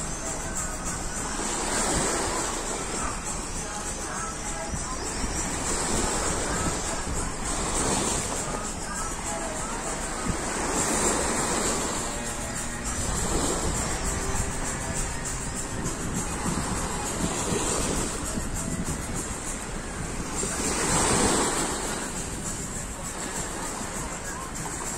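Sea waves roll in at Akti Miaouli beach in a steady wash of surf, with breakers swelling and receding every few seconds under a constant windy hiss, close and fairly loud.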